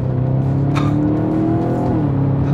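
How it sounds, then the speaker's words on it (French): A loud Audi RS4 B8 V8 engine revs hard with a deep rumbling tone, rising and then dropping back, close by and continuous. "La réponse de l'accélérateur du V8 est si franche"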